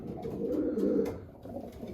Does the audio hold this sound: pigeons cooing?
yes